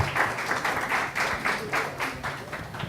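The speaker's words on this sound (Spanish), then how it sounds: "Un aplauso para el charlista." Audience at a seminar clapping for a lecturer before his talk, a modest group whose claps come in fairly regular bursts at moderate volume.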